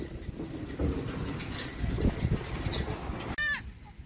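A goat gives a short bleat near the end, after several seconds of steady wind noise buffeting the microphone outdoors.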